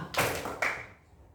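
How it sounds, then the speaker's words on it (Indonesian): Schoolchildren doing the scout 'silent clap' pattern in a classroom, two quick sharp group claps close together, then a decaying hush. "Tepuk diam"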